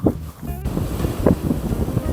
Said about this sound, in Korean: 바람이 좀 불기는 하는데 아직 많이 부는 건 아니라서